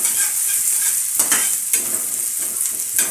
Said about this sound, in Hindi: प्याज को लाल होने तक भूनना है।